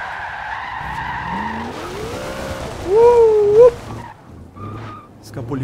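A Dodge Charger R/T in the racing game Forza Horizon 2, with the engine revving and rising in pitch, a sharp tire squeal, then dropping back to idle as the car slides.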